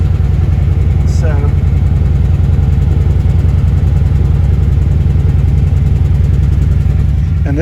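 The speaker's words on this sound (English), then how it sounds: "one of the beautiful things about this truck is the dual Trd Pro exhaust." Steady, loud low rumble of a 2021 Toyota truck's dual TRD Pro exhaust idling just after a cold start, a continuous throbbing drone close by with a brief higher whine early on and no talk over it.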